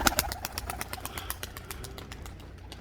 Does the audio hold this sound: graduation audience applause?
no